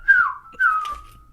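Two descending whistles, each sliding downward in pitch, mimic lit bombs sailing through a wrecked ceiling in a tabletop fantasy role-playing game; the whistles are close, clear and heard alone.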